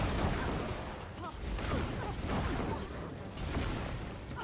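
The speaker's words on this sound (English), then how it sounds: "Yes, all of my attacks sound like gunshots." Gunshot-like attack sounds from combat in Guild Wars 2, a rapid series of punchy bangs and booms layered in a busy, continuous battle mix.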